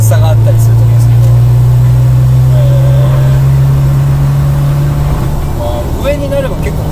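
A Subaru Legacy BP5 sports wagon pulls hard from the cabin, with a loud, sustained engine drone that holds a steady pitch for several seconds before shifting, while people talk over it.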